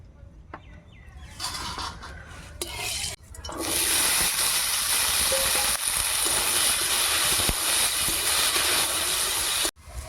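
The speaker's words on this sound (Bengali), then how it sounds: "আলু আর গাজরগুলো ভেজে নেব আগে।" Potatoes and carrots hit hot oil in a heated kadai, setting off a loud, steady, close hiss that runs nearly unbroken after a few seconds of clatter, then cuts off briefly near the end.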